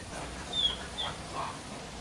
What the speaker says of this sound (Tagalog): Iyan ang nararamdaman ng isang buntis na aso. Siya din ay napapaiyak sa sakit.